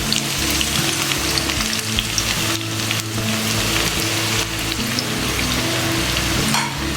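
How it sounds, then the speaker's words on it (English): Finely chopped onions sizzle steadily in about two to three tablespoons of hot oil over a high flame, a loud, continuous close-up crackle and hiss with no voices. "let's fry these onions till they are dark brown in color"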